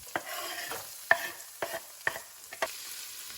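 Onions and carrots sautéing in butter in a skillet, a quiet soft sizzle punctuated by about six sharp utensil scrapes and taps, close and without voices.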